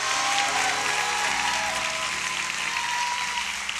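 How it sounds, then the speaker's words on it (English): A church congregation applauds the pastor's wife with a continuous, full wash of clapping while sustained organ or keyboard chords play steadily underneath. "can you give your first lady a big round of applause as well?"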